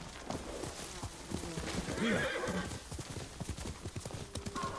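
Horse hooves clip-clop steadily while a horse whinnies midway in the samurai action game Ghost of Tsushima, set against background music with someone talking over it.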